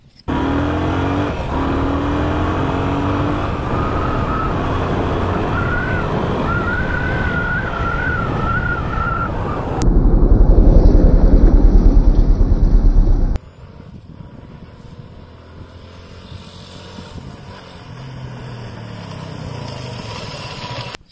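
A motorcycle rolling with its engine running while only the front brake is applied, loud and close, with a louder surge of engine and road noise near the middle before it settles again.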